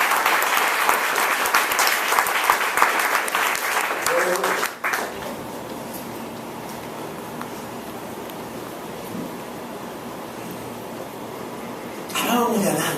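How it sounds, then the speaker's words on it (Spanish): A church congregation breaks into loud, dense applause for several seconds, then the clapping thins to a softer lingering patter before another burst swells at the end. "Dame un aplauso fuerte al Rey."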